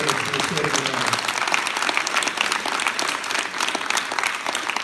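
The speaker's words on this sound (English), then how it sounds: "Please give her a round of applause." A crowd at a political rally with a politician in Vermont applauds Senator Jane Kitchell, steady dense clapping that is loud and continuous, with some voices mixed in underneath.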